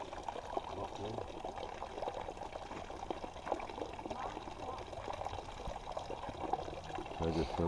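Creek water is poured into a container to be filtered on the Pacific Crest Trail, a steady close splashing trickle with faint outdoor noise behind it.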